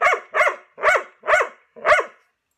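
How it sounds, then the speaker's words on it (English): A dog barks five times at a steady, evenly spaced rhythm, sharp, loud and close, with nothing else heard. "That's what Ranger's saying in dog language"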